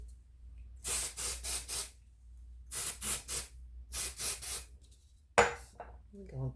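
Short hissing hairspray bursts come in three clusters of quick pumps, close by, followed by a brief clunk and a faint voice.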